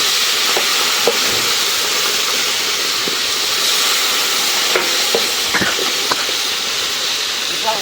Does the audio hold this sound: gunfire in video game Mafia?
no